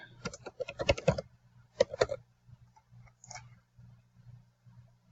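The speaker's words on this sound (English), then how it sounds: "I'll log back in as John Doe with the new password." A password is typed on a computer keyboard: a quick burst of close keystrokes, a short pause, a second brief flurry, then a few scattered, softer taps. No talk.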